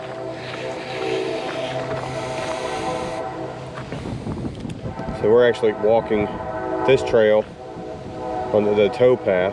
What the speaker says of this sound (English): you have to excuse the train in the background